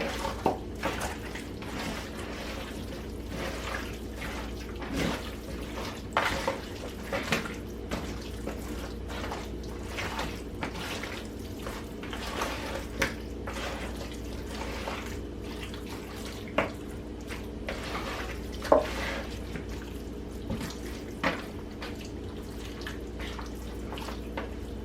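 A kitchen tap runs for hand washing during cooking, a low steady stream broken by scattered splashes and drips for about twenty-five seconds, with no talking.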